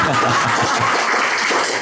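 Audience at a talk applauding in a dense, even burst of clapping that fills the room, with faint chuckles mixed in.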